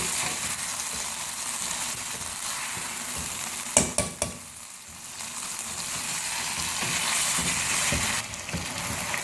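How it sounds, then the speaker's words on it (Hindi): Minced meat and potatoes fry on a medium flame for an aloo keema dish, giving a steady close sizzle with a brief burst of utensil clinks and stirring near the middle. No one speaks. "मीडियम फ्लेम पर हम कीमे की भुनाई कर रहे हैं"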